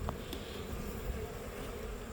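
Honeybees buzz steadily around their hives where a small swarm seems to have moved in, a continuous close, dense hum with no voices.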